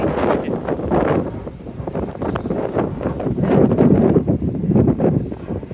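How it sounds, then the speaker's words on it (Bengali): Strong wind roars across a ferry deck, buffeting the microphone in a constant heavy rumble that swells and eases without pause. "অনেক বাতাস এখানে।"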